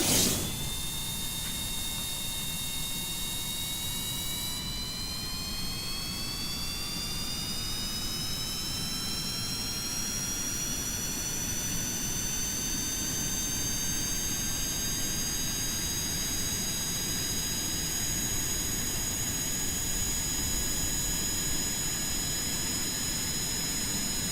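A jet airliner's engines spool up and roar steadily through a video game takeoff, with rising whining tones over a loud continuous rumble that holds for the whole stretch without any talk.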